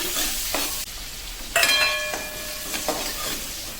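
Capsicum, beans and carrots sizzle in melted butter in a kadai, a close, steady hiss broken by a few scrapes and clatters as the vegetables are stirred.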